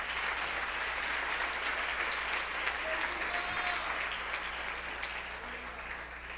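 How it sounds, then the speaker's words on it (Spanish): A Christian church congregation applauds steadily and loudly throughout, a continuous wash of many hands clapping with no break. "Aplauso fuerte al Señor de señores."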